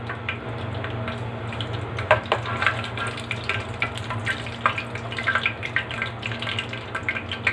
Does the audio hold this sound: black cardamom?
yes